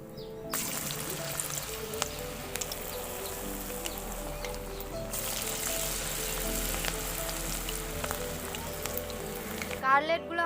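Cabbage cutlets fry in hot white oil with a steady, moderately loud sizzle and crackle that runs almost the whole way, with a few clinks near the end.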